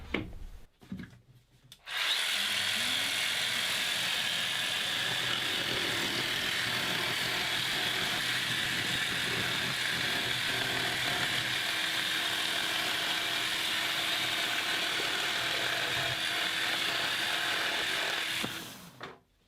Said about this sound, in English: So with the initial cut done with the jigsaw